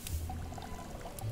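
Plants being watered in the shop-keeping video game Winkeltje: a short, continuous trickling pour of water, steady and moderately close over a low background hum, with no talking.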